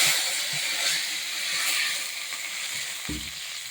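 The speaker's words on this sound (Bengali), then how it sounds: "একটু কালো জিরে ফোড়ন দিয়ে দেবো।" Nigella seeds (black cumin) spluttering in hot oil as a tempering, giving a steady close sizzle and hiss with a brief low thump near the end, and no voices.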